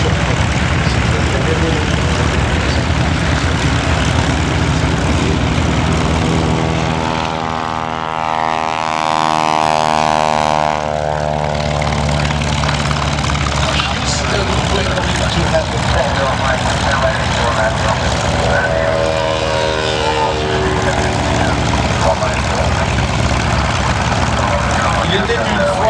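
A vintage Junkers Ju 52 propeller airplane passes at an air show, a loud, continuous droning engine roar that swells and sweeps in pitch as it flies by, with a voice speaking over it.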